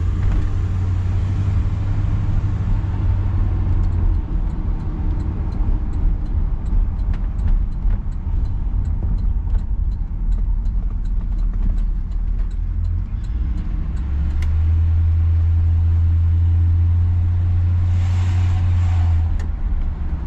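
A 1959 Chevy Bel Air driving down the road, its steady low engine and tyre rumble continuous throughout with deeper drone swells near the start and end, no talk.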